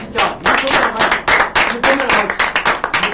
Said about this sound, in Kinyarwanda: Mukomera amashyi cyane.